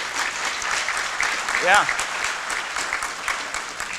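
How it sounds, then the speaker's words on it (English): A room full of people clapping steadily, with a voice briefly speaking over the applause. "I think they deserve a round of applause for that."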